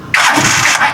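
A Rusi Chariot motorcycle engine starts from cold with a sudden catch and then a steady, loud mid-pitched run that lasts under a second.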